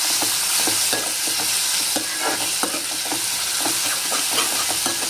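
Tomatoes being stirred into onions frying in a pan, with steady sizzling and spoon scrapes repeating in an uneven rhythm, close and fairly loud, no voices.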